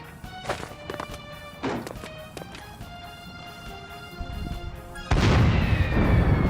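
A spellcaster weapon firing at monsters crossing a bridge in Dragon Quest Heroes: repeated booming shots at irregular intervals over a steady game backdrop, ending in a louder sustained blast.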